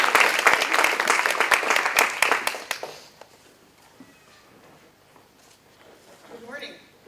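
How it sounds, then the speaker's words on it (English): An audience at an education conference gives a dense round of applause to welcome a speaker, loud for about three seconds, then tapering into scattered claps, rustling and faint room noise. "give her a round of applause to start and one to finish"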